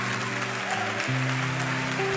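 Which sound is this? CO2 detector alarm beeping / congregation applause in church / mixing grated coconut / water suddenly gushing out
congregation applause in church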